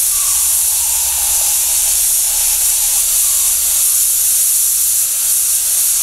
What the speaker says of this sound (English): just take a couple of shots with the steamer to get the cool condensed steam out of it